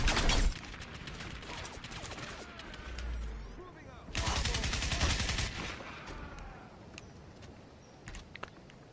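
Bursts of assault rifle fire in the shooter game Crysis, two loud rapid volleys separated by a quieter stretch, with players' voices talking over and between the shots.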